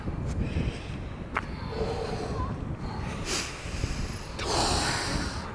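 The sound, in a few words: heavy Wim Hof method breathing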